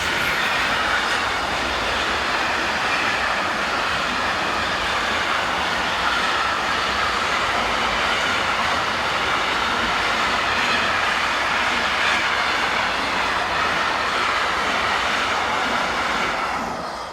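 An ECR Class 186 electric locomotive hauls a freight train past at close range. A loud, continuous rumble of wheels on rails lasts the full length, with faint squeal and rhythmic clatter and no talk.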